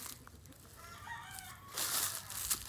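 Chickens in a backyard, close clucking and drawn-out calls, with a louder burst of squawking toward the end, over faint outdoor background.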